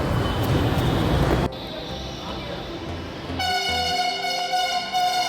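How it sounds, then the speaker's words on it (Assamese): A Delhi Metro Blue Line train comes into the station, first a loud rumbling roar, then a quieter hum, then a tonal chime or horn-like signal with layered steady tones over the station background. "ইয়াত ব্লু লাইনৰ মেট্ৰ'খন আহি গ'ল"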